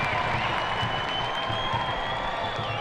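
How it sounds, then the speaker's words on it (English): Stadium crowd at a women's soccer match, Orlando Pride against Western New York Flash, gives a steady round of applause, a broad sustained wash of distant clapping and crowd noise with a faint tonal hum. "That gets a big round of applause."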